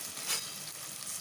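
Chopped onion frying in a pan, a soft steady sizzle close by with a brief brighter hiss early on.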